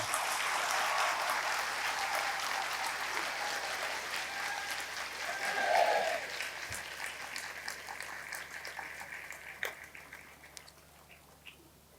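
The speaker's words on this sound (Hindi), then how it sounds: "तो तालियां बजाओ कि सचमुच है।" Sustained audience applause at a guru purnima spiritual gathering, a dense wash of clapping that holds steady, then gradually thins and fades toward the end, with scattered individual claps near the close.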